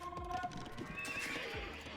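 Horses in the Age of Empires 2 strategy game: hooves clip-clop and a whinny rises across the middle, all fairly loud over a busy layer of game sound effects.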